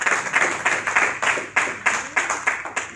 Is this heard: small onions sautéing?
no